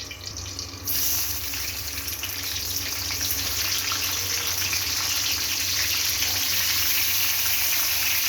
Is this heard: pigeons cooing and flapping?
no